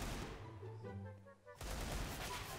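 Burst of CS:GO gunfire breaks in suddenly and loud after a quieter stretch with a low hum, continuing as dense, crackling shots to the end.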